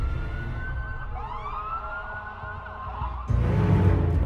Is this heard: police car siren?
yes